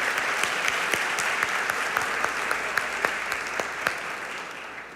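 Church congregation applauding during a sermon, a sustained wash of many hands clapping in a large room with a few sharper individual claps poking out, fading slightly at the end.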